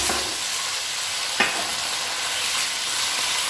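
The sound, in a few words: chicken frying in a pan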